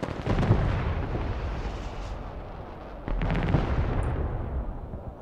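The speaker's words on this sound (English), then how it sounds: "My rockets are firing." Rocket artillery firing in the Broken Arrow video game: two loud, rumbling volleys of launches with broad crackling blasts, one near the start and another around the middle, each trailing off into a dense roar.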